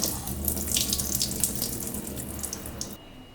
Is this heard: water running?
yes